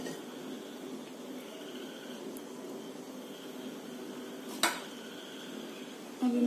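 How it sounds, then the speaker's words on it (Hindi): A frying pan is handled on the stove as a tablespoon of oil goes in: faint clinks and scrapes of metal over a quiet background hiss, with one sharper knock near the end. "मैंने एक फ्राइंग पैन ले लिया है, उसमें मैं डालूंगी 1 tablespoon ऑयल,"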